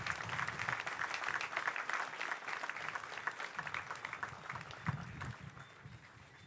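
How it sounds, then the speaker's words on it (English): Spectators at a Barbados Defence Force recruit pass-out parade applaud the new recruits outdoors with sustained, dense clapping that gradually thins and fades toward the end. "please give them a round of applause"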